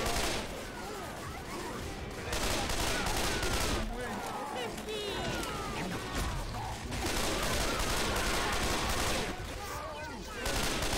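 Sustained bursts of automatic gunfire from a Left 4 Dead–style zombie survival shooter, dense and loud throughout with rapid rattling volleys, as players talk over the shooting.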